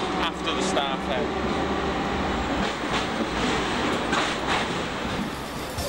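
A Hong Kong tram runs along its street tramway, giving a steady close rumble and rattle of the car on the rails with a busy city din around it, continuous for the whole stretch.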